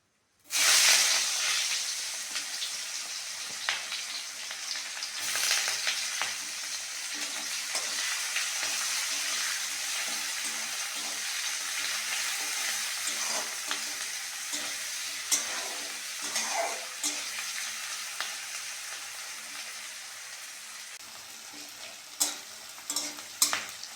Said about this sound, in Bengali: এইবার ওই তেলের মধ্যে দিয়ে দেবো কুচনো পেঁয়াজ।